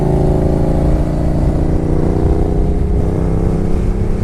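Steady loud drone of a Kawasaki ZX-14 Concours touring motorcycle's inline-four engine at cruising speed, recorded close with constant wind and road rush and no talking.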